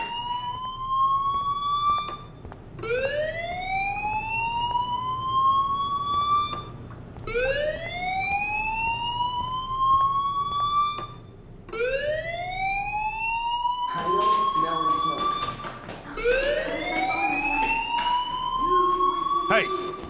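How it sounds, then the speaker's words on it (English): Fire alarm ringing in the video game Life is Strange, a rising electronic whoop repeating about every two and a half seconds, loud and steady, with brief talking partway through. "Do you hear that fire alarm?"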